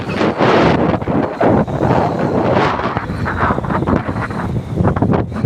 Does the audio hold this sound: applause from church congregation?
no